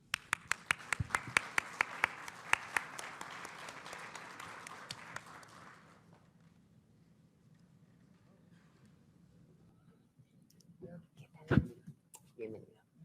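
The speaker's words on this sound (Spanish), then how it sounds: "Los recibimos con un fuerte aplauso." An audience applauds to welcome a panel at a talk on digital government and artificial intelligence, with a steady burst of clapping for about six seconds that then fades. Brief speech and some scattered handling noises follow.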